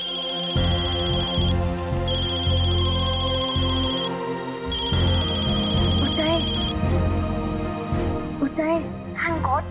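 A repeating electronic phone ringtone chimes in bursts over a steady music bed, with voices speaking near the end.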